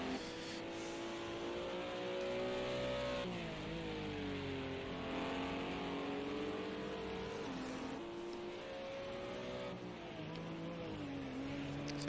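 A GT4 race car at Laguna Seca during an IMSA Michelin Pilot Challenge race, engine droning steadily and loud through the final sector, revs rising and falling with gear changes and corners, with no talk.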